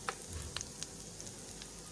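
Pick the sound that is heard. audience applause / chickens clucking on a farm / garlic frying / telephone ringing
garlic frying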